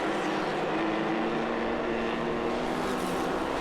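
A 1600-class single-seat off-road buggy races on the Crandon track at full throttle, its engine a steady, buzzing, high-revving drone that holds without letting up.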